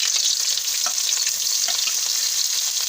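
Onions sizzling and frying in hot oil in a pan, a steady dense crackle with occasional stirring scrapes, close and continuous with no talk.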